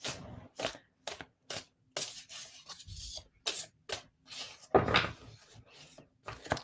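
Tarot cards being shuffled by hand in short rubbing, riffling bursts with brief pauses between, close and soft, with a voice speaking in between.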